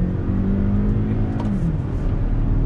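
A 2019 Hyundai Sonata's 2-liter engine pulls away on throttle, a steady loud buzzy drone with rising harmonics that holds close and continuous for under three seconds.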